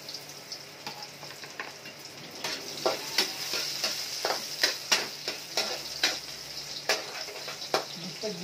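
Garlic and onion sautéing in hot oil for pancit canton, a close steady sizzle under a run of sharp clicking taps from a utensil stirring against the pan.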